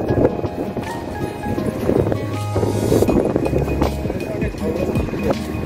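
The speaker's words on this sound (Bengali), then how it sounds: "কি হাওয়া দেখো, লালগঞ্জে এত হাওয়া ছিল না।" Strong wind gusts sweep across an open beach at Bakkhali, a steady loud roar and buffeting on the microphone with low rumbles and people talking underneath.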